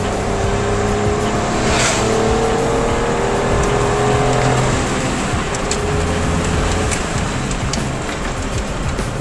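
A 2024 Suzuki S-Presso AGS with a 1-liter engine accelerates, heard from inside as a loud, steady engine drone with road and wind noise and no clear talk.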